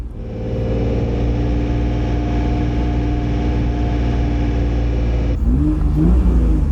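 A damaged, badly wrecked Honda NSX drives with a steady, droning engine hum and whirring tone held for several seconds, shifting character near the end as the engine note rises slightly, close and alone without talk.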